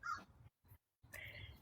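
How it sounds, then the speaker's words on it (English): Crows cawing outdoors where birds are being fed, a few loud harsh calls in short bursts separated by a brief silent gap, close and clear with no talking. "you hear them crows crowing"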